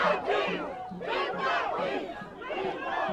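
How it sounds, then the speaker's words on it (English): A large crowd chants a slogan in unison, the rhythmic phrases repeating in loud surges with voices blending into a roar. "chanting, "Keep the peace." That's what you're hearing right now."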